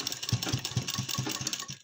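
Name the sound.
sewing machine stitching a saree belt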